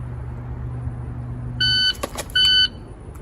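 A shot timer sounds two sharp electronic beeps during a live fire drill, close and loud over quiet background hum, with faint sharp noises between them.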